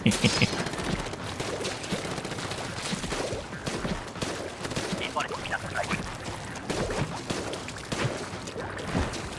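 Missiles fire in the Splatoon video game during a Splatfest match: a dense, continuous crackle of rapid launches and impacts, moderately loud, with game effects throughout.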